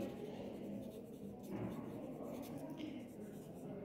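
Pen or pencil writing a large heading for a linear map scale on paper, a steady close scratching texture that runs throughout with slight shifts in pressure.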